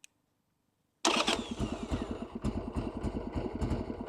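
A Harley 883R Sportster stunt build fires up after a second of silence, then settles into a loud, close, lumpy V-twin idle with uneven chuffing pulses.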